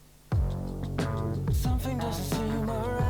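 A full band mix with vocals recorded through a Rode NTK tube microphone, with punchy drums and dense backing instruments playing steadily at moderate volume.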